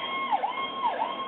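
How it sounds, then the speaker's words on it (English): An emergency vehicle siren wails steadily with a rising and falling yelp sweep, heard at a moderate distance on a city street, alone without talk. "I'm just going to let the siren pass for a moment"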